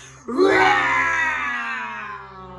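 A voice imitates a lion's ferocious roar, sung in a children's storytelling song: one loud, sustained, rising cry that holds for about two seconds and slowly fades.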